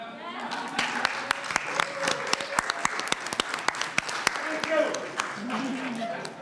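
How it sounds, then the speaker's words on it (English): A school board budget meeting gives a round of applause for current school principals: a modest group of sharp, distinct individual claps, fairly close, with voices chattering underneath. "could we just have a round of applause for our current principals who stayed in their jobs?"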